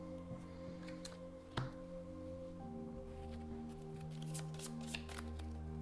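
Tabletop game cards for the masked demon are gathered and shuffled with steady papery riffles and flicks, heard alone over a constant low electronic hum with a soft thump early on.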